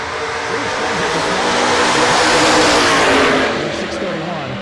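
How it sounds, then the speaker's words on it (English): A 1966 Ford Fairlane drag races at the mile, its engine roaring loud and swelling as it launches and pulls away, with an announcer talking over it. "Taking on Jimmy Reeves, 66 Fairlane."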